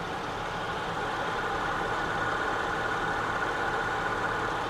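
A 2006 Honda Ridgeline sits at idle with a steady, even engine hum and no revving, close by and unchanging throughout.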